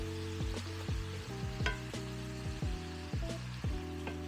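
Meat for stuffed peppers fries in oil in a pan, giving a steady close sizzle with periodic scraping and stirring sounds repeating in a regular rhythm, with no talk.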